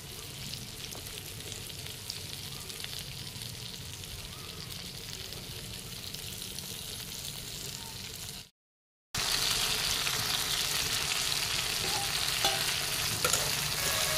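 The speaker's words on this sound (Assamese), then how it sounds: "বেঙেনা কেঁচা গোন্ধটো যোৱালৈকে মই এনেকৈ ভাজি ল'ম।" Eggplant slices half-frying in oil, a loud, continuous close sizzle that cuts out briefly partway through and returns even stronger and brighter.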